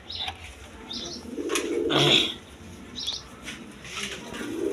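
Pigeons kept for sale as breeding stock coo softly and repeatedly, with a few chirps and a brief flutter of wings, close by over a steady hum of background noise.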